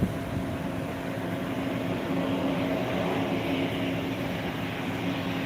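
Thai Airways A320 airliner on approach to Phuket International Airport, a steady broad engine roar with a faint whine, held at an even, moderate level throughout.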